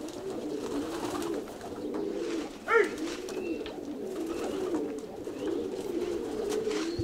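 Kozani breed pigeons coo softly against a steady low murmur of flock sound, with one brief sharper call standing out midway and faint flutters in the background.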